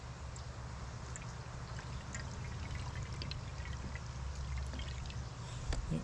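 Water poured back into a container during a leak-sealing product test, a steady continuous pour with a low rushing, bubbling body running throughout at moderate close level.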